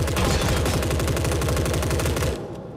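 Full-auto gunfire in the video game The Forever Winter, a rapid, steady burst of loud shots that stops abruptly near the end.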